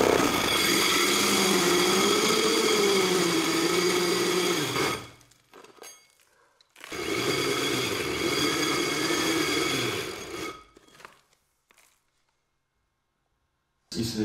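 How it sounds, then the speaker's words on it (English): A power drill whirs as it bores holes into sauna rocks, running in two long bursts with a pause between, close and fairly loud, followed by quiet. "I'm drilling holes. I don't know if you can see over here with the drill."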